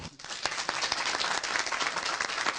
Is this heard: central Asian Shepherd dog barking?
no